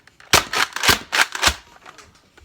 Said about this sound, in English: Slam fire, which substantially increases firing rate.